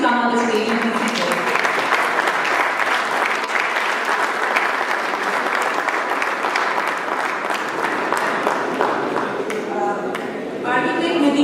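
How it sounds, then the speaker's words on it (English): Sustained, loud applause from an audience at an architecture exhibition forum in Lahore as presenters are called to the stage, steady dense clapping for over ten seconds with faint voices toward the end. "Now a huge round of applause for these presenters."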